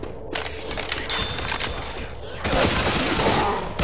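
Rapid, loud gunfire bursts in Left 4 Dead 2, with overlapping shots and mechanical clatter that grow denser toward the end.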